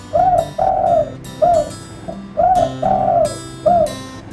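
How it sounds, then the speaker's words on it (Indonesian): A pet bird in a home gives a run of soft, dove-like coos, about seven close rounded calls in an uneven rhythm, loud and near with no talking. "burung ini saya kasih nama teman-teman, namanya YouTube"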